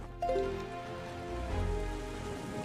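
Rain and storm in the dark, gloomy seas of Zelda: The Wind Waker HD, a steady wash of rainfall with low rumbling under layered game music, no voices.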